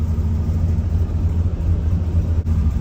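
Car engine idling steadily after a below-freezing cold start, with a low, even rumble that holds close and constant throughout, no revving and no voices.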